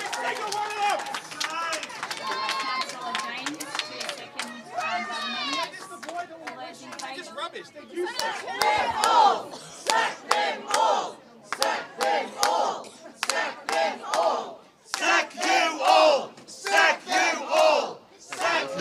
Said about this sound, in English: The crowd not happy with the answer.